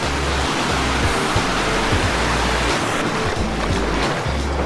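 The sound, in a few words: waterfall on Gunung Jerai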